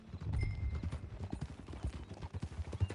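Horse hooves clip-clop steadily in Red Dead Redemption 2, a close, rhythmic trot of dull thuds running the whole time over faint background ambience.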